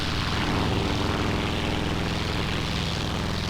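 Steady, loud roar of a simulated F4U Corsair radial propeller engine at climb power in Flight Simulator X, droning evenly without a break.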